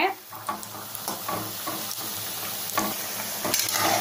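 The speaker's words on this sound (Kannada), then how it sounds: "ಒಂದು ಎರಡರಿಂದ ಮೂರು ನಿಮಿಷ ಚೆನ್ನಾಗಿ ಫ್ರೈ ಮಾಡ್ಕೋಬೇಕು ಮೀಡಿಯಂ ಫ್ಲೇಮಲ್ಲೇ" Potato bondas deep-frying in oil over a medium flame: a dense, continuous bubbling sizzle with occasional stirring clinks, close and fairly loud.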